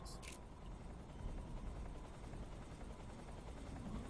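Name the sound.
helicopter in a video game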